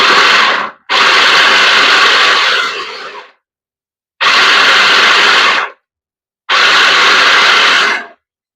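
A hand-pressed kitchen chopper whirs in three loud bursts of a few seconds each, separated by silent gaps, with a buzzing, rattling texture close by.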